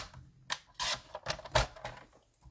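Paper trimmer slicing through cardstock in a crafting session, a few sharp close slicing and clicking strokes spaced through the quiet, with no talking.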